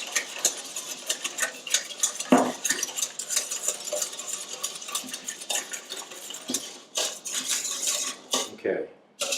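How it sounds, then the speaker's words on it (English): A spoon stirs sugar into a coffee mixture for tiramisu, clinking steadily and quickly against the side of a cup or bowl, close and fairly loud, with no talking. "what I want to do is stir the sugar until the coffee mixture"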